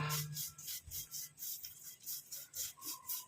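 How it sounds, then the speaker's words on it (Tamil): Ingredients stirred and scraped with a spoon in an iron kadai as they fry, a rhythmic rubbing and scraping repeated about a dozen times, close and fairly loud with no talk. "நீங்கள் இந்த மாதிரி இரும்பு கடாய் எடுத்துக்கிட்டிங்கன்னா ஃப்ரை பண்ணுறதுக்கு ஈஸியாக இருக்கும். நல்லா இந்த மாதிரி கிண்டி விட்டுக்கலாம்."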